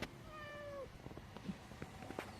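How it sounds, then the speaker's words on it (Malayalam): A cat meows a few times close by in a quiet outdoor garden setting, with a drawn-out tonal call followed by softer, shorter sounds and light background noise. "എവിടെ നടക്കുന്നോ അതിൻ്റെ കൂടെ പൂച്ചയും ഉണ്ടാവും."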